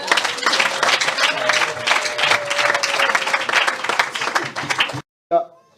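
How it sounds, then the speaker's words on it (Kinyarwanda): Congregation applauding God at a church gathering, loud sustained clapping from a crowd that stops abruptly, followed by a brief burst of voices. "Amashyi ku Mana."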